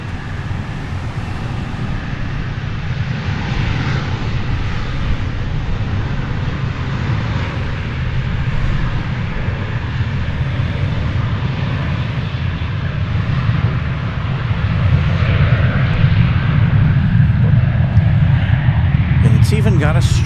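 A Reno Air airliner passes on the runway at DFW airport, its broad steady engine roar holding for the whole stretch and swelling slightly louder toward the end, with a voice talking over it.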